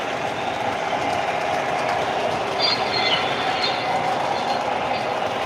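A model train with a Fireball boxcar rolls steadily past at close range, with a continuous rumble of wheels on track and a few brief high squeals midway, no talking.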